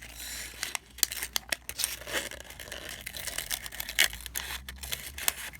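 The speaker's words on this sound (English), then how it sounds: "You're going to cut and cut that circle out." Scissors snip around a circle cut from a paper cupcake liner, giving close, irregular crisp cuts and papery crinkles in quick succession, with no talking.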